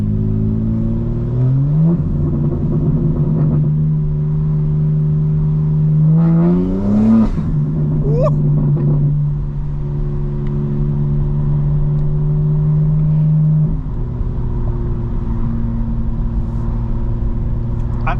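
Engine of a 2025 BMW M4 Competition heard from the cabin while driving hard in daytime, a steady loud drone that climbs in pitch through revs, drops on shifts around seven and fourteen seconds, then holds.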